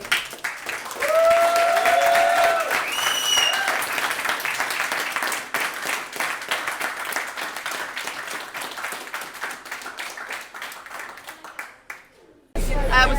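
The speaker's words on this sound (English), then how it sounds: "Can we have a big cheer for the staff again, please?" At a Warrior Games 2019 ceremony, a large crowd bursts into sustained applause and cheering for the staff, with whistles and shouts. It tapers gradually before a sudden loud burst at the end.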